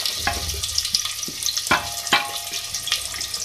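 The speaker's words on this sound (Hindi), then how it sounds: "फ्राई करेंगे।" Two medium onions fry in hot oil, a soft continuous hiss broken by a few sharp crackles and pops up close, with no talking.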